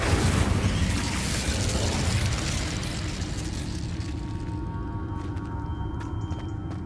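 An Incendio fire spell cast in Hogwarts Legacy erupts as a loud, rumbling whoosh of flame that slowly fades over several seconds, leaving faint game ambience and small effect clicks.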